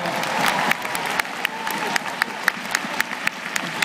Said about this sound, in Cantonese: 熱烈嘅掌聲啊